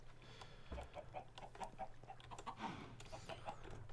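Chickens clucking in the Minecraft video game, a series of short soft clucks repeating in quick succession against faint game ambience, no voices.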